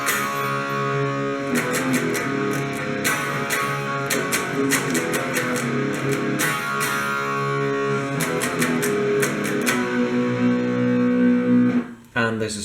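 Electric guitar through effects plays the second part of a song intro, with a steady, dense distorted tone and rhythmic picked accents running throughout, ending abruptly near the close.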